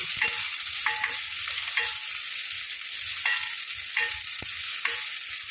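Onion and garlic frying in a pan for bangus with tausi, a steady close hiss of sizzling oil broken by repeated scraping stir strokes, with no talking.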